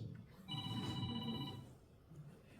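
Faint electronic telephone ringing in a meeting room, one sustained trilling burst of about a second beneath murmured talk and room noise.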